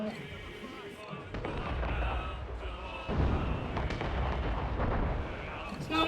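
Ship cannons in Assassin's Creed Rogue firing as a broadside, booming blasts rolling together over a dense battle din with voices and shouting mixed in.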